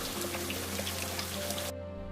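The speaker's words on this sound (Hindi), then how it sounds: "इतनी बारिश हो रही है" Heavy rain pours down during cold weather, a dense, steady hiss of drops that carries on evenly before cutting off abruptly near the end.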